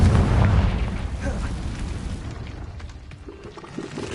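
A Confringo spell explosion in the video game Hogwarts Legacy opens with a loud, deep, booming burst that decays into a rumbling tail, fading over a few seconds.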